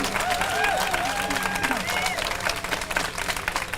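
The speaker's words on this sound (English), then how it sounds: "give Reggie a big round of applause" An audience gives a steady round of applause at a live event, dense clapping filling the room throughout with voices mixed in.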